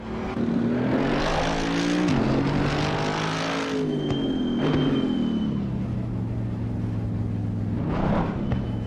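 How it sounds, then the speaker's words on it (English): A Mercedes-AMG GT3 race car's V8 engine roars steadily and loudly in the Assetto Corsa racing game at Spa, its pitch climbing and dropping with gear changes, with a V8 character throughout. "Very V8 sound, isn't it?"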